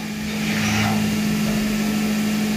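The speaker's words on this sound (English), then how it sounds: "this is a 20mm carbide drill. And this is some very aggressive drilling" A CNC mill drives a 20mm carbide drill hard into metal held in two vices, giving a continuous loud grinding whine with a steady hum underneath, unbroken throughout.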